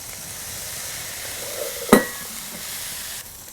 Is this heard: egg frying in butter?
yes